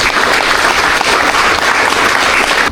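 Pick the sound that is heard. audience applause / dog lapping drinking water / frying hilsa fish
audience applause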